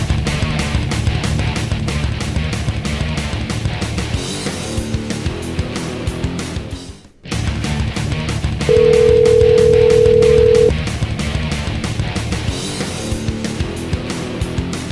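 A telephone dial tone on a live call-in talk show holds steady for about two seconds, sounding over continuous background music just after a brief dropout.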